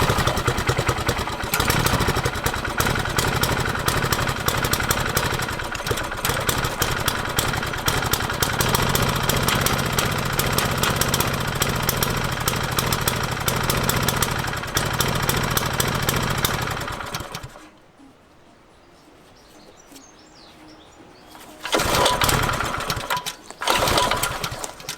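A Wacker plate compactor engine runs loud and steady with a rough, rattling drone for about seventeen seconds, drops to a faint low idle, then surges back up near the end.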